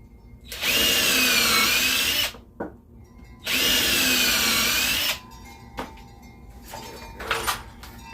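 A power drill boring holes into a wooden flower planter, two long steady whirring bursts each about two seconds, followed by quieter knocks and brief handling sounds.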